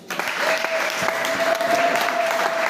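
A church congregation applauds together, a dense, steady wash of clapping that holds at an even level throughout, with a faint sustained tone running beneath it.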